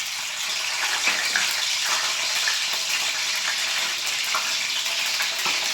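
Green chilies fry in a generous pool of hot oil for an Andhra-style fish curry, crackling and sizzling continuously with small pops, close and moderately loud.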